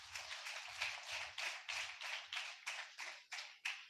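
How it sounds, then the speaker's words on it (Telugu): A church congregation claps hands together at fasting prayers, a steady series of about ten sharp, faint claps in even rhythm with no talking. "చప్పట్లు కొట్టరా మరి"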